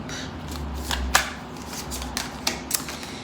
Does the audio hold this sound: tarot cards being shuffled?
yes